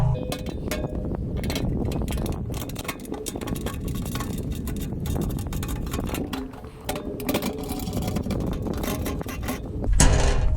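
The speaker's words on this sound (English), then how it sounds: "let's put the drain cap back in, and then we have to put this cover back on" A drain cap is threaded back in and an underbody cover refitted during an oil change on a Toyota 4Runner, with close, continuous metallic clicking, clinking and rubbing that stays busy throughout.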